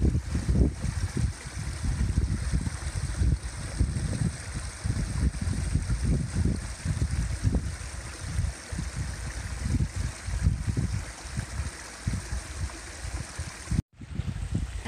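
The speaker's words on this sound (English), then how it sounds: "look at how cute this little tiny, like, little waterfall stream is." A tiny waterfall stream at a dam recreation area flows in a steady, broadband rush of water, close and continuous, with slight surges and no voices.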